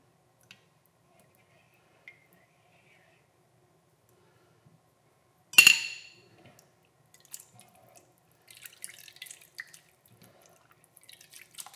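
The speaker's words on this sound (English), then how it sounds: "So I'm gonna add some water to that, and this is gonna be warm to hot water" Warm to hot water is poured onto green cheese for a one-ingredient slime, giving one short sharp splash in a quiet room, followed by scattered faint wet drips, clicks and squishes.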